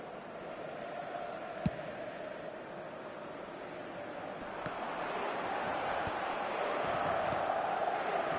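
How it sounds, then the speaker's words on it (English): A virtual stadium crowd in an eFootball match on PS4 keeps up a steady, faint roar throughout, swelling slightly toward the end, with one sharp tick near the start. "it certainly got the crowd going"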